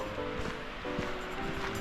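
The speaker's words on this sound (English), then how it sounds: "This is the first waterfall." A waterfall beside a forest trail near Skjolden, Norway, rushes as a steady broadband roar, continuous and fairly close with no voices over it.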